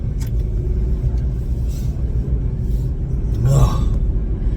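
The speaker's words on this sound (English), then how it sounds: "Here comes that rent-to-own truck again." A rent-to-own truck drives past on a road, a steady close rumble of engine and tyres that swells briefly as it passes, with faint speech-like sounds near the start.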